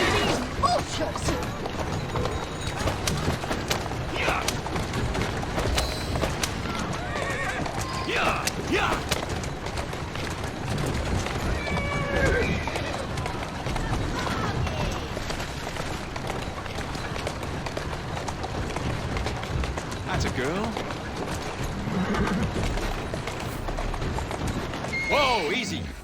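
A horse in the video game Assassin's Creed Syndicate pulling along at a run, with steady, continuous hoofbeats and an occasional neigh throughout, while someone speaks over it.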